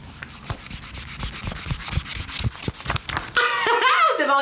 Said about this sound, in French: Alors vous voyez, vous pouvez gommer comme ceci. Ça fait des petits copeaux de gomme.